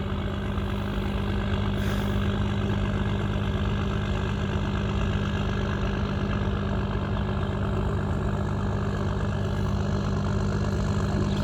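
A tugboat engine rumbles steadily at close range, a deep continuous drone that holds an even level throughout with no other sounds.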